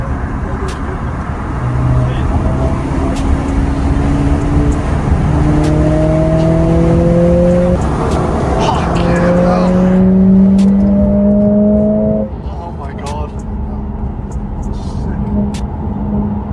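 A 500 bhp Mercedes CLA45S accelerating hard on a night drive, heard from inside the cabin as loud engine tones rise steeply through several gear changes, then settle to a lower drone.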